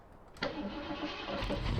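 A Dodge Hellcat engine starts in Farming Simulator 17, a sudden crank and catch into a steady rumbling idle that rises slightly near the end, close and clear.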